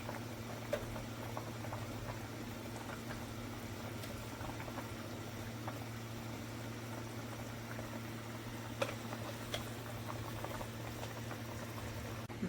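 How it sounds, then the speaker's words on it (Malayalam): A pot of Kottayam-style fish curry with kudampuli and coconut oil simmers steadily with a low bubbling and soft popping, a constant hum running beneath it. "നമ്മുടെ മീൻകറി തിളച്ചിട്ടുണ്ട്"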